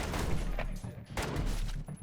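Gunfire in a Roblox first-person shooter, a rapid burst of repeated shots, fairly loud and close, with a brief gap in the middle before firing resumes.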